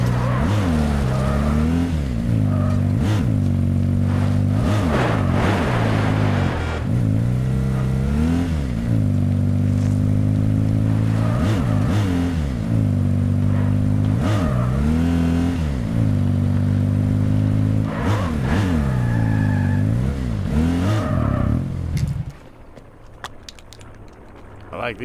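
A car engine drones and revs steadily for most of the stretch, pitch rising and falling with acceleration, then drops away near the end, leaving quieter noise.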